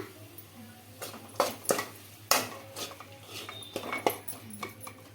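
Onion chutney scooped from a pan into a bowl with a spoon, several sharp clinks and scrapes of utensil against cookware over a low steady hum, close and fairly quiet.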